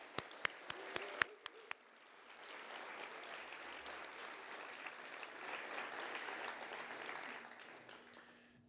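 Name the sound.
audience applause for school principals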